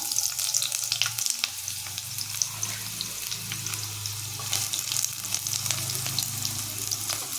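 Onion frying in hot mustard oil in a pan, a steady bright sizzle and crackle throughout with faint stirring, no talk.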